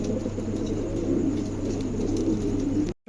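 Low, soft cooing of a pair of blue barless Lahori pigeons, repeated in a steady murmur close by, with a faint background hum, ending abruptly.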